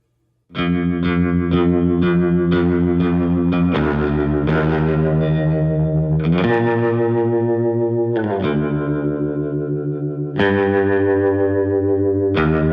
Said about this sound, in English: a baritone guitar played through a Fender Twin with spring reverb and then recorded